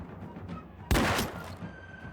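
A single pistol shot fired in Mount & Blade II: Bannerlord's Empires of Europe 1700 setting, a sharp loud crack with a short rumbling tail standing out over quieter game ambience.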